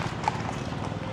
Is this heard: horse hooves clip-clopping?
yes